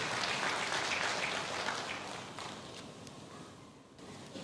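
A church congregation gives God a lively round of applause, a dense wash of many hands clapping at once that fades gradually, with no talk.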